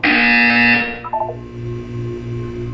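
A loud electronic buzzer in the video game Portal 2 sounds as a sustained harsh tone, then fades into a pulsing low hum.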